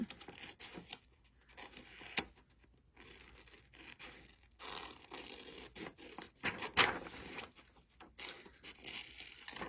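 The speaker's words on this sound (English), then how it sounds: "So just cut all your pieces out." Scissors cutting out pieces of a paper cement mixer coloring sheet, a steady run of soft snips, rustles and crinkles, close and fairly quiet with no talking.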